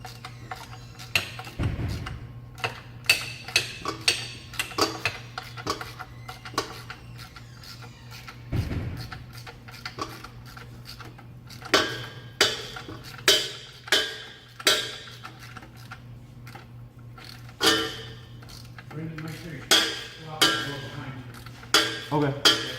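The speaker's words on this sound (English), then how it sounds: "we're going to get a ratchet so that we can be a little quicker about ratcheting it off" A ratchet loosening a car's oil drain plug clicks in quick rapid runs of sharp ticks, pausing between strokes, with a couple of louder clunks, close and clear against a low steady hum.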